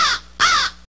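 A crow in an animated jungle story gives two loud, harsh caws close by, the second longer than the first, with no talking around them.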